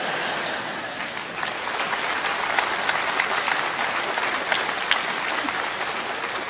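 A theatre audience applauds during a Vietnamese comedy sketch, a steady, dense wash of clapping that holds for several seconds with no talking.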